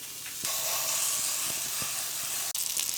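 Pancakes cooking in coconut oil in a pan give a loud, continuous hiss and sizzle close by, with a few soft taps and a brief break near the end.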